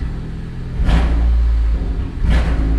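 A turbocharged Honda engine with a 4 bar MAP sensor, heard at its first startup, idles with a deep rumble and is blipped twice, each rev a brief rising burst over the steady idle.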